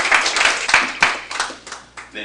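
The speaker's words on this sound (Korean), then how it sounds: "박수로 청해주시면 감사하겠습니다" Audience at a finance and tax forum clapping to welcome a professor, a short burst of brisk, fairly close claps that fades within about two seconds.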